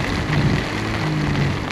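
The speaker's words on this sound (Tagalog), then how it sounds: "Uy, lakas ng ulan dito." Continuous heavy rain wash with a low droning hum beneath, steady throughout the short clip and no one speaking. Heard while riding a motorcycle near Baguio City.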